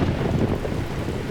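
Strong windstorm in Northern Canada, a dense roaring buffet of wind battering the microphone with gusty low rumble throughout.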